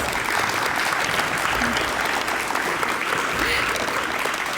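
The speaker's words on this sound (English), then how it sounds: "Let's give Mr. and Mrs. Vielma another real big round of applause" Audience at a high school softball letter-of-intent signing ceremony gives a loud, steady round of applause, dense clapping throughout without pause.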